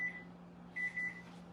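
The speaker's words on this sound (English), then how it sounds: "okay, my buzzer's going off again." An oven timer beeps while a dessert pizza bakes, sounding a short electronic tone and then two more in quick succession over a steady low hum, ending with a brief clatter.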